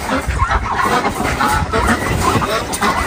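Domestic ducks in a farm shed, giving a busy mix of close, overlapping quacks and honking calls throughout.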